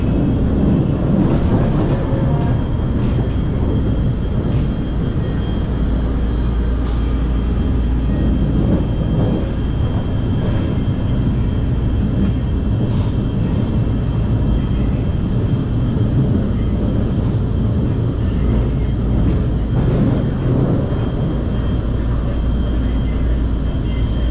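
Steady rumbling noise of a Kuala Lumpur monorail train crossing a bridge rolls on continuously, a loud low drone with faint rattles and clacks throughout, no pauses.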